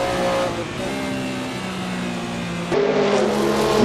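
A Sauber C9 race car engine, heard onboard in a racing game at Le Mans 1985, drones steadily through the Porsche curves, then steps up in pitch as it accelerates, loud and close.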